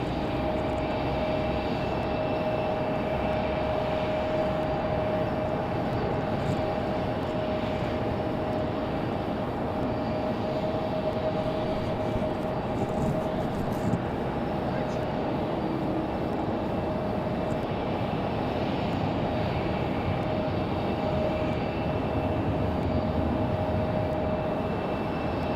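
An American Airlines plane at Raleigh-Durham airport gives off a steady, distant engine drone with a faint sustained whine, constant and unbroken in windy outdoor air.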